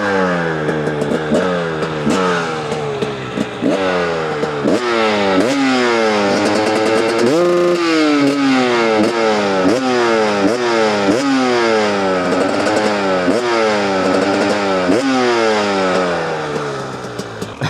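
A 2-stroke 300cc motorcycle with its original exhaust, kickstarted and then revved repeatedly, the engine note rising and falling in rapid bursts, loud and close with no talking.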